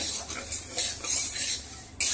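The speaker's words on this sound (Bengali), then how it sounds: "সমানে নাড়তে থাকতে হবে, তাহলে ডালটা যেন ভালো করে ভাজা হয়" Lentils dry-frying in an oil-free pan for bhoger khichuri, stirred steadily with a utensil, giving a continuous close scraping and rustling with light clinks and a faint sizzle.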